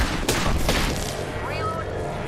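Gunfire in an online shooter game such as Apex Legends, with a couple of loud sharp bursts early on over steady game noise, followed by a brief rising electronic whine as shields recharge.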